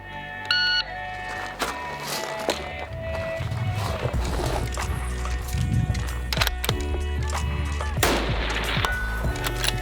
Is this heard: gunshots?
yes